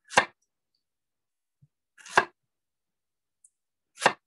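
Three crisp, separate knife strikes on a cutting board as a vegetable is roll-cut for stir fry, spaced about two seconds apart, close and clear with silence in between.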